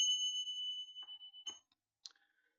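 A meditation bell rings out with a sustained, pure tone that lingers and slowly fades, followed by a few soft clicks and a small metallic tap near the end.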